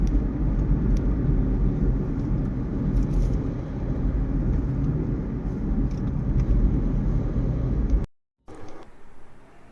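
A car crawls through heavy evening traffic behind lines of trucks on the road from Bahawalnagar to Lahore, giving a steady, loud engine and road rumble that cuts out abruptly near the end.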